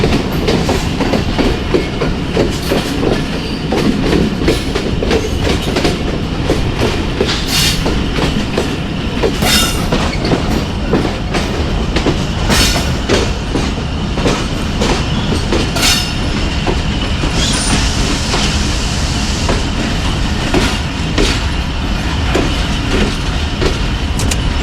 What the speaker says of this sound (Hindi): ये 36 डाउन सैयद एक्सप्रेस अपने पहले स्टॉप की तरफ बढ़ रही है, झेलम रेलवे स्टेशन।